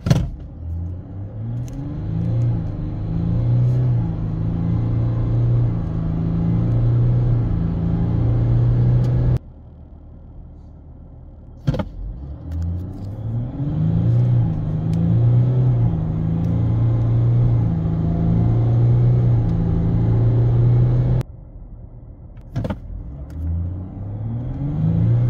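A VW Amarok pickup with a 3.0 TDI V6 diesel accelerates hard, a deep rising engine drone heard from inside, broken by brief gear-change dips before climbing again.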